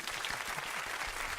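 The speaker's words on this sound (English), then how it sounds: "Let's have a big round of applause for Diego," A studio audience applauds a 15-year-old named Diego: a faint, continuous wash of clapping from a distance, even in level from start to finish.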